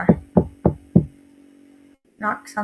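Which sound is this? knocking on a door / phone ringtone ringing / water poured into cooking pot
knocking on a door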